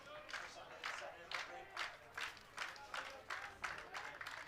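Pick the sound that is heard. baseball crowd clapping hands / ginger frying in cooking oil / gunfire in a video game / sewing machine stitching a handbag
baseball crowd clapping hands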